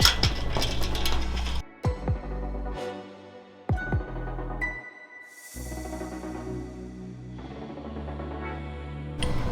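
A hand ratchet clicks in short bursts while bolts are tightened under a McLaren 720S during an oil change, close and fairly quiet, with brief pauses and a low steady hum between strokes.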